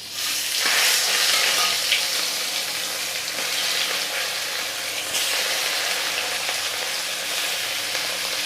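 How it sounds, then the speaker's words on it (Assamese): Pieces of large chital fish fry in hot oil in an iron wok, giving a loud continuous sizzle and crackle with occasional sharp pops and spatters, heard up close without talk. "এতিয়া মাছখিনি মই ফ্ৰাই কৰিম।"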